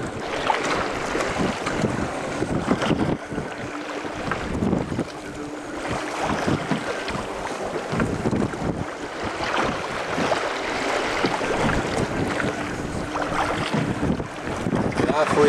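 A small rowing boat crosses the open sea off French Guiana, with waves washing and slapping around the hull under steady, heavy wind buffeting against the microphone throughout.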